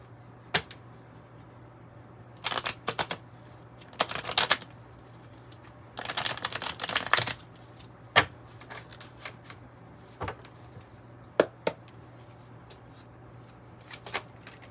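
A deck of 108 oracle cards being shuffled close up: quick riffling bursts and soft flicks arrive in irregular clusters, separated by quiet pauses.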